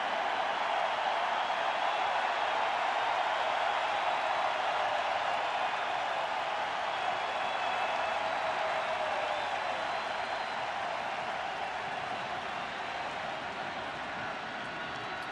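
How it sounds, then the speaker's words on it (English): A large World Series baseball crowd cheers and applauds in a steady, dense roar that holds loud and unbroken from start to finish, with no clear voices rising above it. "the crowd is finally in full throat"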